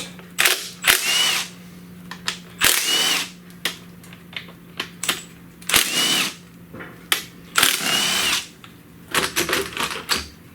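A power driver with a T30 Torx bit removes the ignition coil during a Chevy Cruze engine swap, firing in loud, short bursts separated by pauses and quick clicks, close up.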